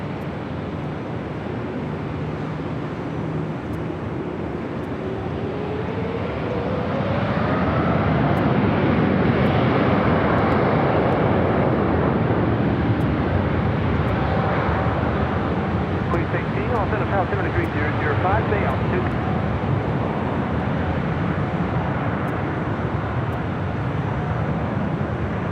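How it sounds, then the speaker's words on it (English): Lufthansa airliner taking off from runway 24 left at Los Angeles airport, a broad jet roar swelling and holding loud and steady, with a distant voice talking over it. "Lufthansa 457 on up to Del Rey, runway 24 left, cleared for takeoff."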